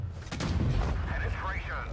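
A single heavy tank gun shot fires and penetrates a T100 in World of Tanks Blitz, a sharp blast followed by rumbling decay and faint in-game radio chatter.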